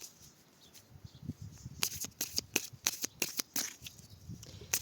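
A deck of oracle cards is cut and shuffled during a tarot-style reading, quick flurries of crisp close card riffles and slaps, quiet otherwise, with no speech.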